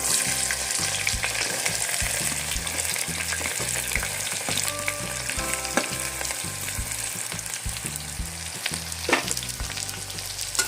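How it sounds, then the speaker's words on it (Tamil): Small shallots and big onions frying in oil for vandakkai kara kuzhambu, a continuous close sizzle with frequent stirring clatter and scraping, no talking. "சின்ன வெங்காயமும் பெரிய வெங்காயமும் ஆட் பண்ணிக்கலாம்"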